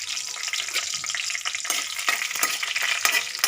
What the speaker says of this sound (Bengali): শুকনো লঙ্কাটা একটু ভাজা হয়ে গেলে